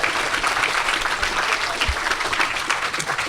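Audience applause for the dung beetle robot Rev at a robot combat competition, a loud, dense, continuous clapping from a crowd that carries on throughout without letting up.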